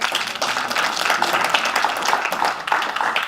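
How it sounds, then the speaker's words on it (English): Business event audience applauds continuously, a dense wash of many hands clapping close and fairly loud, with some voices mixed in. "Give a round of applause."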